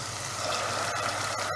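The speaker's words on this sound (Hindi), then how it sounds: "पानी डाला थोड़ा सा।" Water is poured into a cooking pan during a chole recipe, giving a steady, close, continuous splashing gush that lasts the whole short moment, with no talking.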